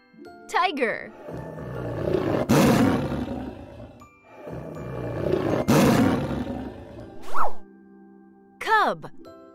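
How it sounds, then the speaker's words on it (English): A tiger roars twice in long, loud, rumbling bursts, with short high chirpy tones before, between and after them, set against a children's animal-names lesson where a voice is heard. "Tiger."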